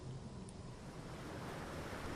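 Ocean surf rolls in a continuous, distant-sounding roar of crashing water, steady and fairly quiet, mixed with some wind and no voices.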